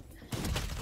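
Gunfire bursts from the tactical shooter game Valorant, starting abruptly after a brief lull and continuing as a dense, loud burst of shots for the rest of the moment.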